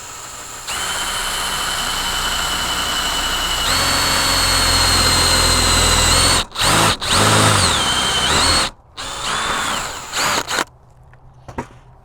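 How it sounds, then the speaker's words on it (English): A power drill whines loudly and steadily close by, rising in pitch as it bites, then stopping and restarting in short bursts before falling silent. "So I'm just going to center my drill over my center punched area."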